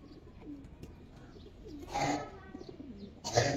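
Giribaz pigeons cooing softly at close range, a few low throaty coos building into two louder bursts of fluttery sound near the end, with faint chirps behind.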